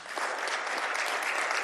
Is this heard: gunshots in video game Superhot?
no